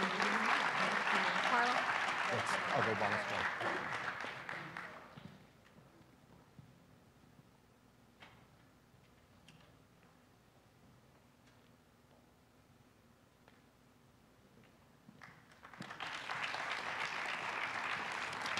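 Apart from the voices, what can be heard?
audience applause at an awards ceremony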